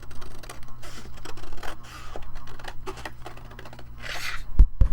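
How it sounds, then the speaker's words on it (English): Scissors snip through paper while cutting out a piece for a junk journal kit, giving a close, steady run of scratchy cuts and rustles with a louder clack near the end. "So now we're going to cut this out."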